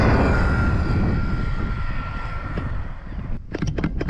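An RC car motor at full throttle whines loudly and steadily under constant wind noise, and a few sharp clicks come near the end.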